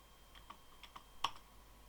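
A short burst of typing on a computer keyboard: a handful of quiet, close key clicks spaced irregularly, with one crisper tap standing out near the end.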